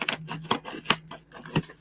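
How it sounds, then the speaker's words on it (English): Several crisp scissor snips cut through packaging at an uneven pace, close up, with no voices. "So I'm using these really crappy scissors."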